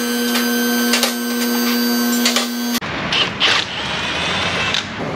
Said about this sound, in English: Sometimes you got to get a cutoff wheel.